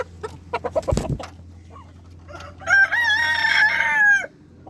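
Chickens cluck in short bursts at a farm coop before a rooster, a possible breeding cock, lets out one loud, long, wavering crow close by.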